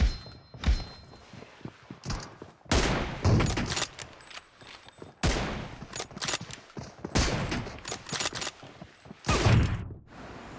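Sniper rifle gunfire from an M24 in the mobile game BGMI, in team deathmatch: a series of loud, sharp shots spread across the clip with gaps between them, plus some faint thuds.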